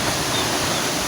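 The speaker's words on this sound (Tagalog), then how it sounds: "Ang daming mga malakas ang hangin" Strong wind rushes in a steady broadband roar outdoors among garden plants ahead of a typhoon, loud and unbroken with no voices.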